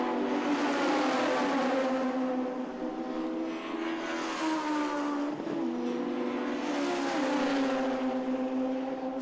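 A single-seater race car at an Irish Championship circuit round sweeps past the commentary box, its engine a loud, sustained high-pitched whine with a slight pitch dip around the pass, close and continuous throughout.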